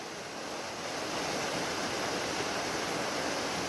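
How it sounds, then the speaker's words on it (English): Small mountain waterfall beside a camping spot on a snowy evening, heard as a steady, dense rush of falling water that holds evenly throughout with no voices. "That is a gorgeous little waterfall."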